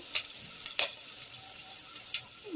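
Mustard seeds spluttering in hot oil while tempering for rasam: a faint steady sizzle broken by a few scattered sharp pops and crackles.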